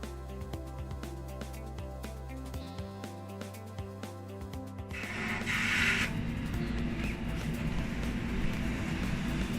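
A wide-format printer loading Epson semigloss paper gives off a steady motor hum with faint ticking, then shifts about halfway into a louder, busier whir of feed mechanics, close and without speech.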